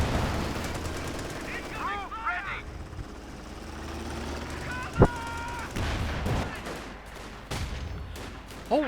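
Machine gun bursts and gunfire from the World War II strategy game Company of Heroes 2, including a .50 caliber gun, crackle amid explosions and a sharp blast, mixed under a commentator's voice.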